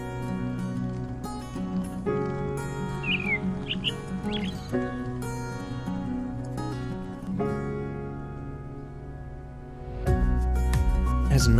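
A pet bird chirps repeatedly inside a smart bird cage, bright close tweets over a steady tonal musical background, with a louder swell of music near the end.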